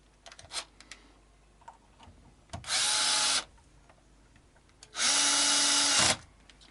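A power screwdriver drives pickguard screws into a Mexican-made Fender Richie Sambora Stratocaster: two steady whirring bursts, each about a second long, separated by quiet handling clicks and taps.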